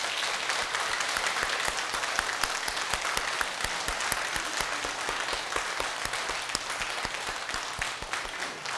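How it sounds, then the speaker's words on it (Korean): A church congregation at a harvest thanksgiving service breaks into sustained, loud applause, with dense clapping filling the room evenly from start to finish. "박수로 하나님 앞에 영광 돌립시다."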